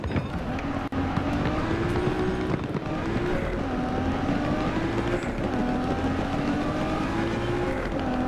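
Car engine in Death Stranding drones loudly and steadily, its pitch climbing in repeated rising sweeps as it revs, close up with no talk.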